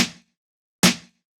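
Two punchy drum hits, an edited sample in Reason, land about a second apart, each a sharp bright crack with a short low thump that decays quickly into silence.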